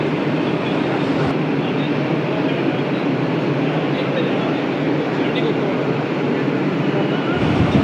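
A Kolkata AC local train on the Sealdah–Ranaghat line pulls into the platform with a loud, steady broadband rumble that lasts throughout, and voices are heard over the noise.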